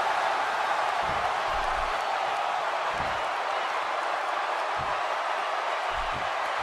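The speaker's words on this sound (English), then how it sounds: "by the sound of this crowd, I think they're getting what they wanted" Crowd at an NXT wrestling event in Seattle keeps up a dense, unbroken roar of cheering throughout, with occasional dull low thumps underneath.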